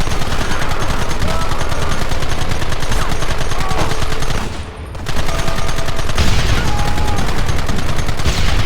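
Dense, continuous gunfire in a Red Dead Redemption shootout, rapid overlapping shots crackling loudly almost without pause, briefly dipping midway before resuming.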